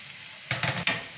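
Parboiled cabbage hitting a hot pan and being sautéed, two loud sizzling bursts with stirring scrapes over a low background hiss, no voices.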